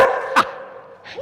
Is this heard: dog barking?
yes